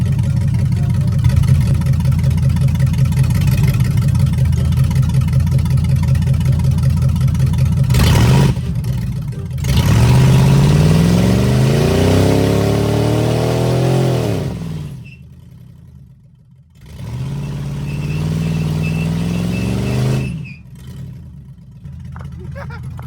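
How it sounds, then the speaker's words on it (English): A Chrysler 300 with a Scat Pack engine swap idles with a deep rumble, then revs hard in rising surges for a burnout, loud and close, with pauses between pulls and people talking in between. "let's see if we can do a burnout"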